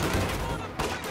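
Grenadiers open assault fire in the Company of Heroes 2 war game: a dense, rapid rattle of rifle and machine-gun shots that runs continuously, with a sharper burst near the end.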